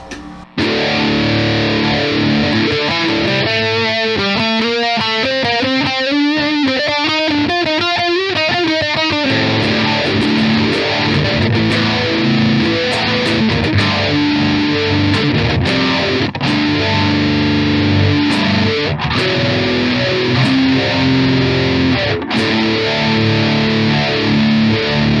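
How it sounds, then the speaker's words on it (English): A heavily distorted electric guitar with a swirling, sweeping phaser effect placed before the distortion, played continuously and loud, with no voices. "let's hear it with phaser coming before the distortion"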